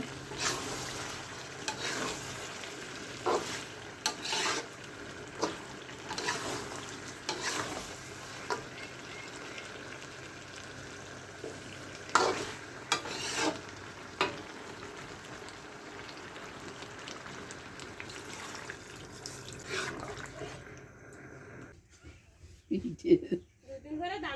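Meat cooks in a pot on a gas stove, giving a steady sizzle with stirring scrapes and clatters throughout. Talk is heard around it, and the sound thins out near the end.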